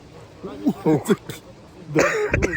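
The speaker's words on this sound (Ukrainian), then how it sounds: "Я ще кашлюю" A person talks briefly, then gives a short, rough cough or throat clearing close to the microphone.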